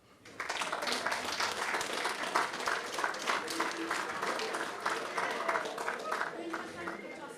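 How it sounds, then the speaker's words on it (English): An audience breaks into applause after a short lull, a sustained patter of many hands clapping at moderate distance that carries on for several seconds with voices audible underneath. "That deserves a clap."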